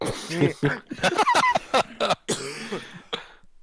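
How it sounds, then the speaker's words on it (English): A few quick coughs and throat-clearing bursts mixed in with ongoing talking, close to the listener. "See, you made me cough."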